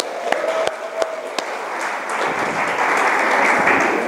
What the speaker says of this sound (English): That's why people are cheering.